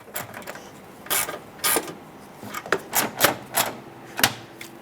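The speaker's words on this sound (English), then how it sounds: "Reinstall the two mounting bolts, and let's snug them up." Ratchet tightening the coolant tank mounting bolts on a 2010–2017 Chevrolet Equinox, with a series of close, sharp mechanical clicks spaced irregularly, some in quick runs, over quiet background.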